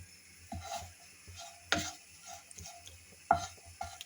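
Croutons being stirred in a dry frying pan over low heat for pea soup, a few scattered scraping clatters against a soft faint sizzle, close and quiet with no talk.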